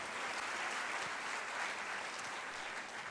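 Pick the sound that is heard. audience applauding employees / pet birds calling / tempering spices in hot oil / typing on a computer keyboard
audience applauding employees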